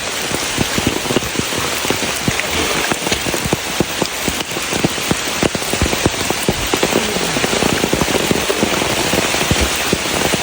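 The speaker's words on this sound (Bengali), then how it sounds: "অনেক প্রচুর পরিমাণে শ্রীমঙ্গলে বৃষ্টি হচ্ছে" Heavy rain pours down steadily in Sreemangal, a dense wash of hiss with constant sharp drops and pattering hits close by, loud throughout with no voices.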